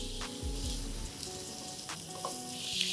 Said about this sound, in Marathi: आता हे सगळं व्यवस्थित आपण परतून घ्यायचं आहे.